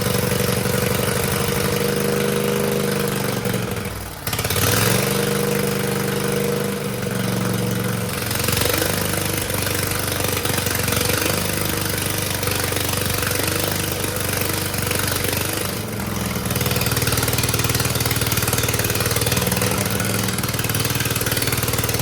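A John Deere LA120 lawn tractor's Briggs V-twin runs with no muffler, a loud, raw, steady idle that dips briefly twice and holds close and harsh throughout, with no talk.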